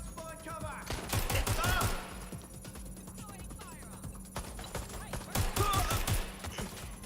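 Video game firefight with two bursts of rapid gunfire, near and loud, the first early and the second late, separated by a quieter stretch of scattered sounds.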